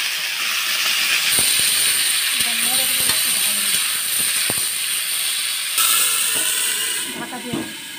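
Potatoes and yardlong beans frying in hot mustard oil in a kadai give off a steady, loud hiss and sizzle with scattered pops and clacks from stirring, running continuously for several seconds.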